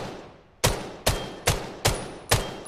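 Rifle gunfire in the video game Vail, five sharp, loud single shots spaced about half a second apart, each with a short decaying tail, with no speech.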